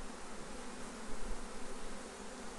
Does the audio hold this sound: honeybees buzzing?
yes